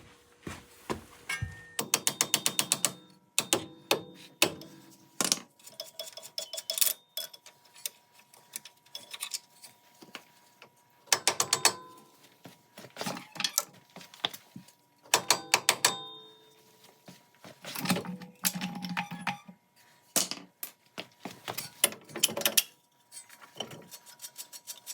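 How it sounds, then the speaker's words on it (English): A ratchet wrench loosening suspension bolts on a Toyota GR86 during a lowering spring install, heard as bursts of rapid clicking pawl ticks separated by short pauses, close and clear. "I'm gonna remove these two bolts that I broke free previously."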